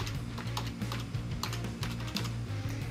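A name being typed on a computer keyboard, with a steady run of quick, light key clicks up close over a low background hum.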